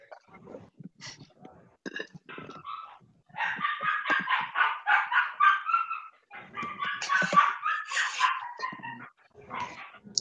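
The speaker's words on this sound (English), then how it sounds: "Someone's puppy's not happy." An unhappy puppy whines and yelps in a run of high, wavering cries, close and fairly loud, coming in pulsing bursts with short pauses between them.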